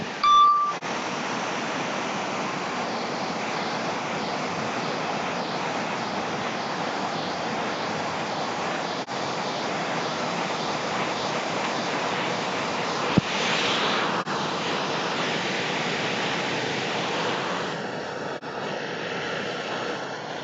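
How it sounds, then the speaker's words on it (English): At Glencar Waterfall in County Leitrim, Ireland, falling water makes a steady broadband roar that holds level throughout. A short beep sounds at the start and faint small-drone whine creeps in near the end. "that's Glencar Waterfall behind us there"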